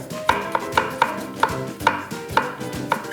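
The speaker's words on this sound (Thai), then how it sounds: "สลัดของเราต้องใส่กระเทียมสดด้วย เอามาฝานให้เป็นบาง ๆ ใส่ไปด้วย" Fresh garlic sliced thinly with a knife on a cutting board for a broccoli salad, about a dozen crisp, evenly spaced chops ringing close and clear with no talking.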